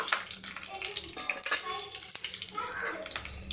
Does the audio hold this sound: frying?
yes